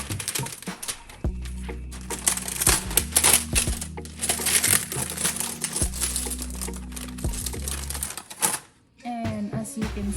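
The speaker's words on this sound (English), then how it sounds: "Just have to remove the plastic cover." Plastic protective cover is peeled and crinkled off a new Vinchef non-stick grill, with close rustling and crackling and some clicks, under faint background hum.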